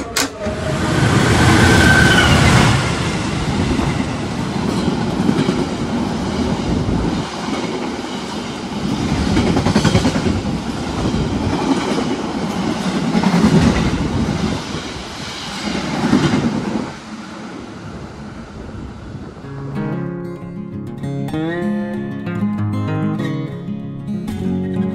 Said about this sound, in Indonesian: Ini ada kereta melintas langsung cuy.